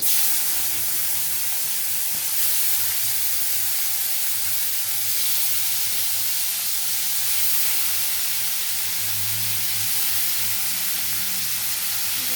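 Chopped onion and tomato frying in oil with whole garam masala and bay leaves, a steady broadband sizzle and hiss held evenly throughout at moderate level, with no talking.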